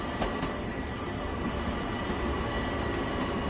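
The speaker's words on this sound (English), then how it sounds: "You can actually hear the train clickety-clacking now." Continuous train rumble in the video game Train Sim World 2 on the Long Island Rail Road, with faint rhythmic clicks of wheels passing over rail joints, steady and moderately quiet.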